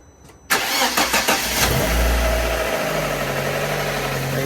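A Fiat 500 engine fresh from a timing belt and water pump change cranks briefly with quick starter bursts, then catches and settles into a steady, close idle that runs on without pause.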